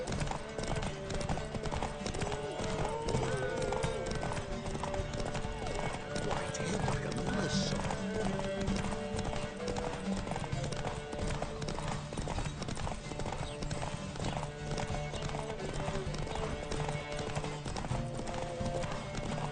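Roach, Geralt's horse in The Witcher 3, gallops through a race with steady, rapid clip-clop hoofbeats that hold throughout, set within a dense game soundtrack of music and ambient noise, with an occasional whinny.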